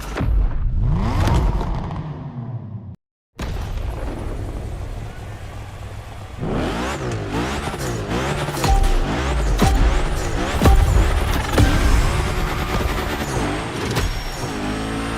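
Cars in The Crew Motorfest rev hard and sweep past in loud, overlapping engine roars, with tire screeches and a busy mix of passing vehicles. A brief silent gap comes early on.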